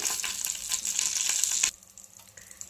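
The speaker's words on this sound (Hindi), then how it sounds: "घी गर्म होने के बाद इसके अंदर हम ये आधी चम्मच जीरा डालेंगे।" Half a spoon of cumin seeds sizzles loudly in hot ghee in a pan, a bright steady crackle that cuts off sharply partway through, leaving only quiet background.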